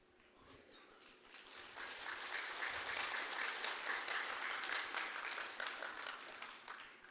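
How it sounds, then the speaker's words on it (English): Audience applause after a speech on blockchain, a dense crowd of clapping that swells from moderate to loud and holds steadily, tapering slightly near the end. "Let's have a round of applause."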